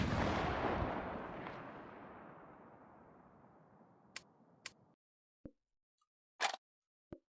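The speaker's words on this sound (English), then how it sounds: "you just sitting there pointing and shooting a 50 caliber" A .50 caliber gun fires in the VR shooting game Gun World VR: one long decaying boom, then several short sharp cracks spaced apart, loud and close with no talking.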